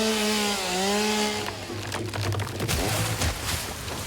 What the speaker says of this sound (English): Okay, I got the chainsaw.